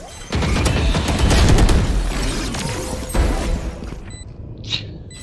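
Grenade explosions and gunfire in the shooter Valorant, a loud sustained burst of blasts and rapid shots rumbling up close for several seconds before tapering off into quieter pops.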